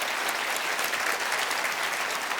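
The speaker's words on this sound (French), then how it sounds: "Je pense qu'on peut les applaudir." Studio audience applauding at a televised comedy show, steady dense clapping throughout the short stretch with no talk over it.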